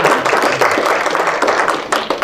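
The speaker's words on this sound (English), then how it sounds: "let's give Eddie a round of applause." An audience at a regenerative agriculture seminar gives a round of applause, a dense patter of clapping hands heard alone and fairly close throughout.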